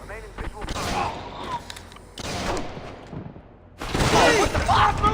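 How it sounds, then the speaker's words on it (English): Gunfire in the stealth shooter game Splinter Cell: Conviction comes in sharp loud bursts with crashing impacts, three separate volleys over several seconds. "Gunshots!"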